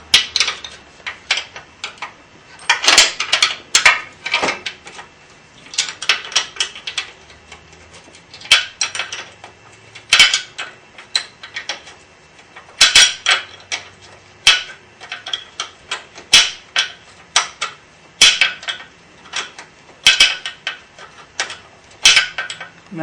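Two 17 mm wrenches working bolts loose on a BMW F650GS motorcycle, heard as scattered metallic clicks, ticks and clanks in irregular bursts, close and fairly crisp against a quiet background.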